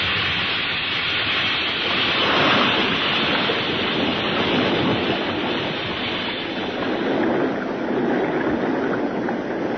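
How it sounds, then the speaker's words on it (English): Submarine rushing straight up toward the ocean surface through deep water, a radio drama effect: a loud, continuous roaring wash of churning water and surf-like noise that swells and holds steady for the whole stretch, with no voices. "the stolen Euclidean submarine is driving at full speed for the surface of the ocean"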